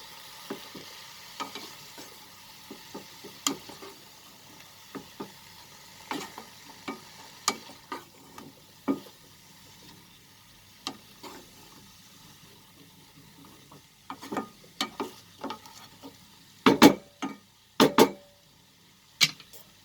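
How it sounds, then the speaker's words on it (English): Methi saag being stirred into eggplant in a pan over a low flame, with repeated spatula scrapes and taps over a faint sizzle, ending in a few louder knocks. "Mix it so that it blends with the eggplant."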